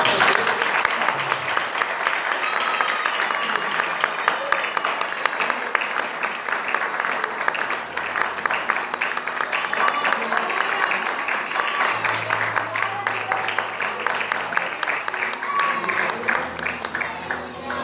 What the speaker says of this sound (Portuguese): E aí você vai dar uma salva de palmas para Jesus.